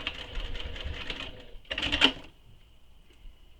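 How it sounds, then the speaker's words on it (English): A sewing machine stitching the short raw edges of a handbag together, running in two short bursts of rapid mechanical stitching with a brief pause between, then near silence. "first I'm going to sew the short raw edges together"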